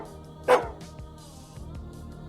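A strange dog in the Psychopomp GOLD video game gives a single short, clipped bark over a low, steady ambient hum, followed by faint dull thuds.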